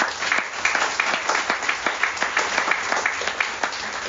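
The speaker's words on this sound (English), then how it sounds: "let's give those guys a round of applause" Audience applause at a Fort Lauderdale twelve-step group meeting, a steady wash of clapping from a modest crowd, fairly close and even for about four seconds.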